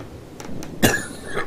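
A single sharp cough from someone commentating a World of Warships naval battle game, preceded by faint breathy throat sounds and followed by brief rustling, close and alone.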